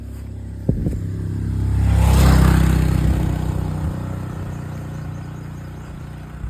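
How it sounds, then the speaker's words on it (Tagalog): A motorcycle approaches and passes by on a road in Gingoog, its engine swelling to a loud close rumble at mid-pass and then fading away, with no talk over it. "Dito ka, may motor."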